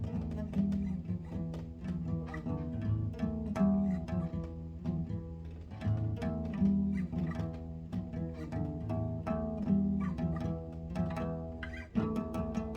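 The Sally Face theme played on guitar: steady plucked notes and repeating chord patterns with a continuous low bass line, close and clear, with no voices.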